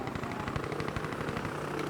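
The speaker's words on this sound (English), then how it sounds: "Where, That is a helicopter." A helicopter in the video game Insurgency Sandstorm gives a dense, rapid rotor chop that stays loud and constant throughout, close and unbroken.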